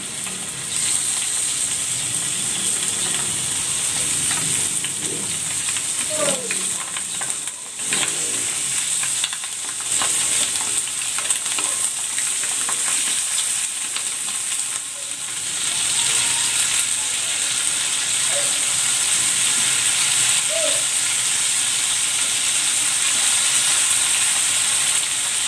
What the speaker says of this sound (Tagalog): Maglalagay ako ng cooking oil. Pan-fry ko muna itong chicken.